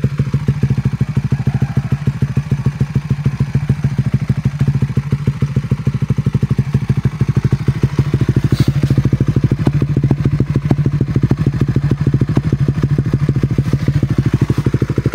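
Raider 150 Fi motorcycle fitted with a Vhenworkz power pipe exhaust, idling and revving with a loud, rapid, crackling exhaust pulse that stays steady and close throughout.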